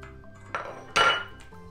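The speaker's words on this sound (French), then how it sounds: "je mélange jusqu'à ce que le beurre soit complètement fondu" A utensil knocks and scrapes against a bowl in two distinct clinks while butter is mixed into warm chocolate glaze, close and fairly quiet against a hushed background.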